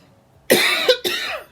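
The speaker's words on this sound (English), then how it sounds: "That's coughing from allergies." Two sharp coughs close together, loud and close, with a brief pause between them.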